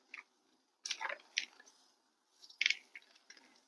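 Fingers gently loosen potting mix and perlite around a houseplant's roots, producing faint, close crumbly rustles and gritty squishes in a few short bursts separated by quiet.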